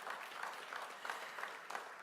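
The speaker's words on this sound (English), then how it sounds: "Give her another round of applause." Applause from a conference audience at an athletic association announcement, a steady wash of clapping at moderate distance with no voices over it.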